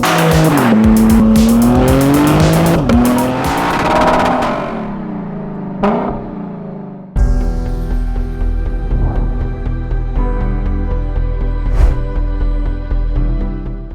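2023 BMW M3 Competition xDrive Edition 50 Jahre with a twin-turbo straight-six being driven hard, engine note rising and falling through gears with squealing tires, then a loud close rumbling drive with sharp transient bursts.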